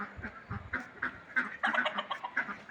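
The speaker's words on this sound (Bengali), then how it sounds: "আর আরেকটা জিনিস হচ্ছে হাঁসও আছে, এই যে চীন হাঁস, পাতি হাঁস, হাউরা হাঁস।" Several ducks, Chinese and common domestic ducks among them, quack repeatedly at a house in Saudi Arabia. The calls are close and fairly loud, coming in quick overlapping bursts with no voices.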